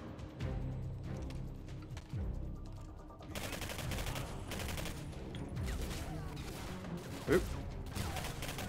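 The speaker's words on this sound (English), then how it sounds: "He's just shooting in the air." Rapid gunfire bursts from the video game Singularity, dense and continuous across the clip with a sharp crack near the end, while a player briefly exclaims over the shooting.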